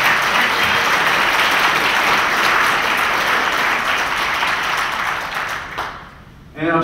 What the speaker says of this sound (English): give a round of applause for all of you here today